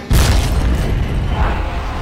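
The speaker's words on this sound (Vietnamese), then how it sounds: "mỗi lần mà nổ một phát đó ha là khói bốc lên ngùn ngụt, khói lửa" Explosion with smoke and fire in a Skibidi Toilet game battle between toilets and Cameramen: a loud booming blast starts abruptly and rumbles on as a sustained, noisy roar for about two seconds.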